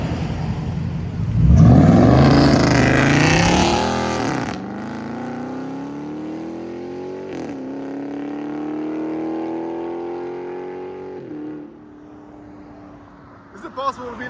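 A 2019 Dodge Charger Scat Pack with a 6.4-liter 392 Hemi V8 and straight pipes with 5-inch black exhaust tips fires up with a loud roaring blip, then settles into a deep, rumbling idle close by before cutting off.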